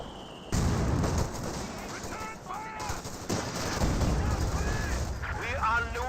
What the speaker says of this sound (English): And the Riflemen do throw a grenade there onto the Jaeger Command Squad